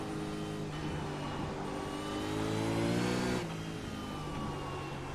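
A V8 Supercar in the iRacing sim at Silverstone accelerates out of a corner. The engine note climbs through the revs, peaks near the middle, then drops at an upshift and pulls again, with a steady, moderately loud tone and no talk.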